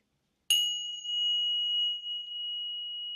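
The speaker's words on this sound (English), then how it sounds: "I shall close this out with my lovely bells." A single bell struck once, a bright metallic strike that rings on as a pure sustained tone with a gentle wavering shimmer, clear and close against silence.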